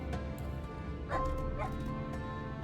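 A dog mount in Final Fantasy XIV gives a couple of short, bright yips and barks over quiet game background sound, fairly close and distinct.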